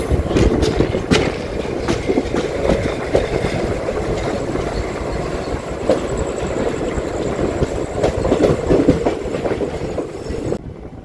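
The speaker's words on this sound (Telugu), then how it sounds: "ఏదో ట్రైన్ అండి, ఏం ట్రైన్ ఐడియా అయితే లేదు." An Indian Railways train rolls past near Kacheguda with loud, rhythmic clickety-clack of wheels on rail joints and occasional squeals, steady for about ten seconds before cutting off, with no voices.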